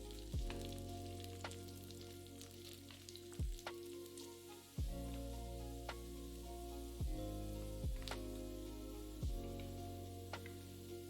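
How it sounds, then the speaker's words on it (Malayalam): Crushed garlic and a small piece of ginger sauté in hot oil for a garlic pickle, a steady sizzle broken by repeated scraping stirs of the pan, with no voices. "അതിലേക്ക് 100 ഗ്രാം വെളുത്തുള്ളി പൊടിച്ചത്, ഒരു ചെറിയ കഷ്ണം ഇഞ്ചി, ഇത് രണ്ടും കൊണ്ടിട്ട് നന്നായിട്ട് വഴറ്റുക."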